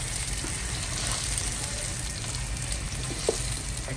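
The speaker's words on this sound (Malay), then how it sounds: "Saute until half cook." Tofu and tempeh sautéing in a hot pan with a little salt, a steady close sizzle and crackle of frying filling the whole stretch, with a couple of faint stirring knocks near the end.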